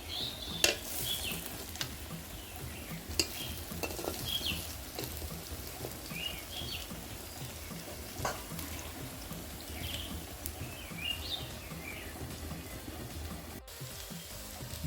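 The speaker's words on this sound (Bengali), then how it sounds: "এক পাশটা ভাজা হয়ে গেলে আরেক পাশটা উল্টিয়ে নিতে হবে।" Drumstick leaf pakoras fry in hot oil with a soft continuous sizzle and occasional turning sounds, fairly faint, with faint birdsong in the background and no talk.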